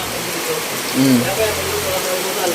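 Steady heavy rain hisses as a dense, even wash of noise, with a person speaking over it.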